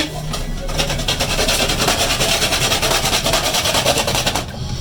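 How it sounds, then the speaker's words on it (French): Nutmeg scraped on a hand grater, giving close, steady rasping strokes in a quick repeating rhythm throughout, with no talking. "Maintenant, j'utilise mon grattoir auquel je vais gratter ma noix de muscade."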